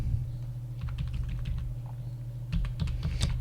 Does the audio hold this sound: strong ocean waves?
no